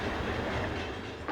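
An SNCF class 6500 electric locomotive, number 6501, hauls a trip freight train out of Saint-Jean-de-Maurienne yard, giving a steady, close rumble with faint rhythmic wheel clatter.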